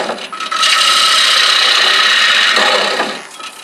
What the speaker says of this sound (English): I switched to my bottom feeder bowl gouge with a fairly long handle and a fairly blunt